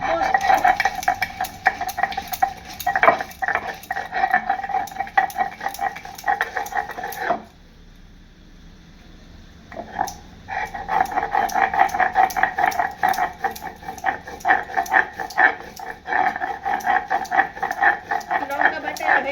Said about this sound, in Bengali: পোস্ত বাটার আগে লঙ্কাটাকে বাটতে হবে, দুটা লঙ্কাটা বেটে নিতে হবে।